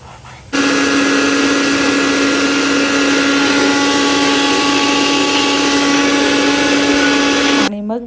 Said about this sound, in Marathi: आता हे मिक्सरला लावायचं